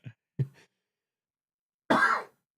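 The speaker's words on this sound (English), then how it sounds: "I knew I was going to get one of those coughs in without hitting the mute." A man coughs alone in a quiet room: two soft, short coughs, then a louder, rougher cough a moment later.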